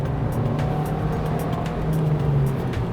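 A car on a wet mountain road in Genting Highlands, fitted with Continental UC7 tyres and driven with paddle shifters, rolls steadily through a corner with a constant engine drone and wet tyre hiss. No one speaks.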